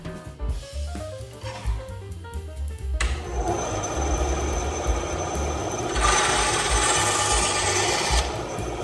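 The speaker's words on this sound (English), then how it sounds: "I measured a piece of wood and trimmed it to size using my bandsaw." A bandsaw trims a piece of wood for a doll house build, first with a hum and uneven cutting, then a steady loud buzzing rasp as the blade works through the wood, close and without talk.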